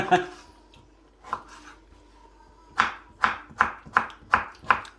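A knife chops a pear on a cutting board while a New Year's roast duck is being prepared, with a few scattered cuts first and then a run of six evenly spaced, crisp, close chops.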